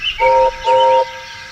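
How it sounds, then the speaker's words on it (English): Two loud, clear blasts of a steam train whistle, one after the other, each under half a second, sounding close by. "Presently he heard a whistle."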